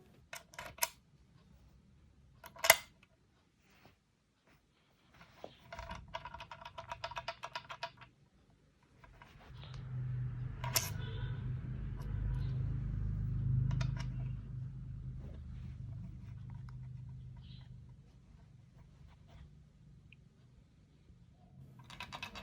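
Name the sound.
USB dongle rattling inside shaken Zuoya LMK 81 keyboard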